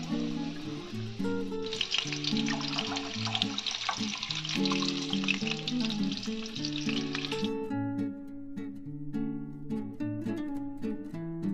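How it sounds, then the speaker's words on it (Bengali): Beans, carrot and capsicum fry in a pan with a steady, fairly loud sizzle for several seconds before it drops away, while music plays underneath throughout. "বিনস একদিকে ভাজা হচ্ছে, আর একদিকে তার ফ্রাই গাজর"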